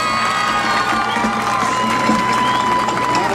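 Crowd at a friendship tournament in Maxela, Guerrero, cheering, whistling and clapping in a continuous loud roar with high shouts and whoops layered on top.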